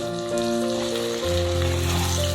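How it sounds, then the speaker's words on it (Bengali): Water poured into a hot pan of vegetables while cooking dudh shukto sets off a steady, loud sizzle and hiss that continues throughout without pause. "ওই বাটিটা ধুয়ে আবার একটু জল দিলাম"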